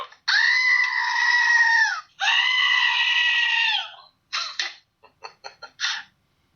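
Two long goat bleats played as a sound effect, loud and wavering, followed by several shorter choppy bleats and sputters, with no talk over them.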